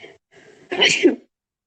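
A single sharp sneeze after choking, close and loud, preceded by a faint breathy intake.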